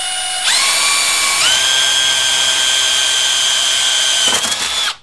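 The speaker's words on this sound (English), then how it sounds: "So we'll start with drilling the holes here." A power drill bores holes in the case of a Memorymoog synthesizer. Its loud, close motor whine steps up in pitch as it spins up, holds steady for several seconds, then cuts off abruptly.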